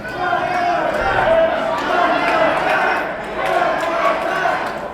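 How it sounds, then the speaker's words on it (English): A crowd chants in rhythmic swells at a wrestling match in Sedalia, Missouri, a loud, roomy arena roar rising and falling in repeated waves. "Crowd chanting one more time."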